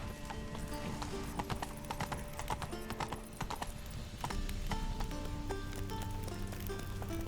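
Horse hooves clip-clopping at a steady gallop in The Witcher 3 video game, a rapid rhythmic clatter over a continuous game soundtrack, with a brief neigh.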